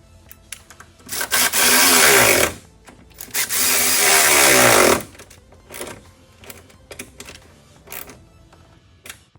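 Bolts being tightened on a Sprinter van adapter kit: two loud, sustained bursts of ratcheting, whirring tool noise, each a couple of seconds long, with scattered clicks and knocks around them and no talk.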